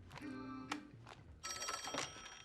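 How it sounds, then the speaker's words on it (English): A telephone rings with a bright electronic trill in two bursts separated by a short gap, loud and close, with no voices over it. "Phone."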